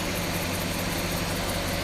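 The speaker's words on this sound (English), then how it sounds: "The engine runs like a clock now." A 1966 Ford Galaxie 500 convertible engine idles with a steady, even rumble at close range, unbroken and loud throughout, with no voices.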